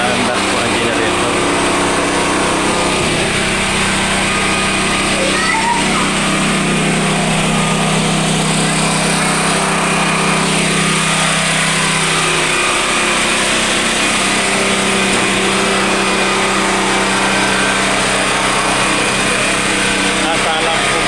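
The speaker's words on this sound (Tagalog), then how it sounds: "Kaya pinaandar po ang generator" Portable generator running at night during a power outage in Batangas, a steady, loud droning engine hum throughout, with a voice talking over it.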